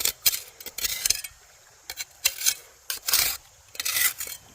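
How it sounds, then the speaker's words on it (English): A metal trowel scrapes gravel out of a bedrock crack into a gold pan while crevicing for gold in Indiana, giving repeated bursts of gritty, raspy scraping close by with short pauses between strokes. "We are literally just going to scrape everything we can"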